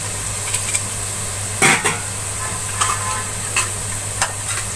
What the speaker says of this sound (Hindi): प्याज मैंने ब्राउन कर लिए हैं।